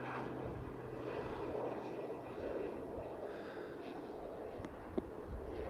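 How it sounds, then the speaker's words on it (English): A plane flies in toward San Carlos Airport, heard as a faint, steady, distant engine drone with a broad rumble and a low hum, carrying on throughout with no talk over it. "We've got a plane coming."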